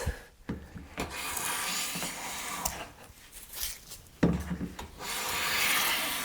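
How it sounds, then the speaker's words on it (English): A hand plane takes a thin, continuous shaving off a wooden edge while the plane is being tuned, making close, dry rasping strokes with short pauses between passes. "I'm trying to get the thinnest shaving because it will show better any possible errors"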